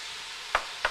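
Onions, carrots and celery sizzle in a pan with a steady hiss, broken by two brief stirring scrapes near the end.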